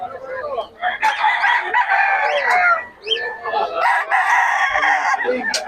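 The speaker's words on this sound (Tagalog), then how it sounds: "Itong mga manok na to" Roosters at a pet and farm animal market crow repeatedly, loud and close, with hens clucking in between and overlapping calls from several birds.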